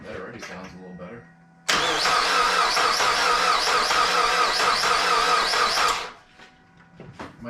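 A Mazda Miata engine cranks and catches after valve seal, timing belt, water pump and belt replacement, then runs loud and steady for about four seconds before cutting off, with people talking faintly before and after.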